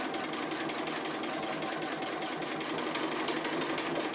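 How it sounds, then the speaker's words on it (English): A sewing machine runs continuously at speed while free-motion stitching an applique, giving a close, even, rapid needle chatter with no pauses and no talk. "You don't have to do free motion stitching like I'm doing."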